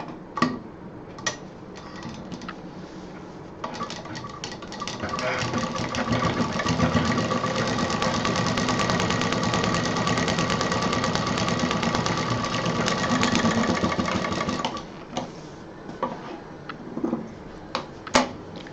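A domestic sewing machine stitches folded fabric for a stylish handmade bag, running in one steady mechanical whirr for several seconds, with softer ticks and handling clicks before and after.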